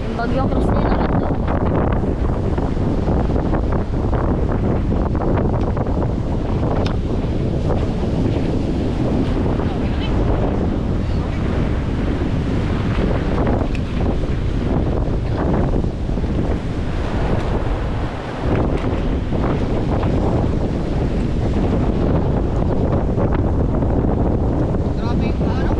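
Out at sea during Typhoon Kristine, heavy wind pounds the microphone nonstop, blending with the wash of surf and waves around a boat in a loud, steady roar.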